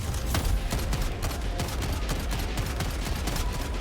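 Rapid, continuous automatic fire from a video game weapon, close and loud, rattling through a full magazine without pause.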